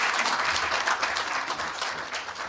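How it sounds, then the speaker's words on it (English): Applause for the chief guests at a ceremony, a steady dense clapping from an audience that fills the whole stretch at moderate level with no break. "Round of applause to our chief guests"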